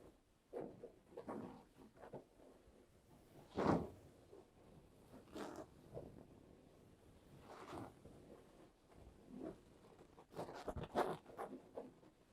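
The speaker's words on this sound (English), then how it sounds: "And with this specific pillow, there's also a zipper." Zipper on a fabric pillow being opened and closed in short, soft strokes, with a few louder rasping pulls, close and quiet in a calm setting.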